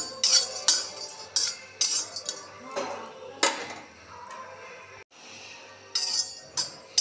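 Cinnamon pieces dry-roasting in a pan over a low flame, with a run of sharp clinks and scrapes of metal utensil against the pan, irregular and close, with no talking.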